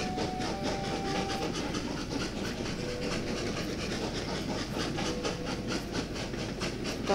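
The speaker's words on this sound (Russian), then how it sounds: "Отправляем красный поезд в путь." A train departs in the puzzle video game Train Valley with a continuous rumbling rail sound, rhythmic clickety-clack and brief tonal whistle-like notes, at steady moderate loudness.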